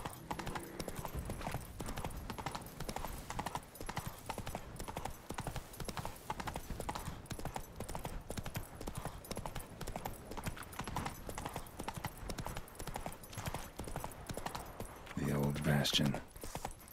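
Roach, a horse in The Witcher 3, gallops with a steady, continuous clip-clop of hooves throughout, with a brief whinny near the end and a voice speaking over part of it.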